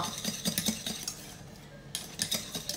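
A utensil stirs crème pâtissière in a pan as it thickens, producing a series of light scraping taps and clinks in uneven bursts, with a brief quieter pause midway.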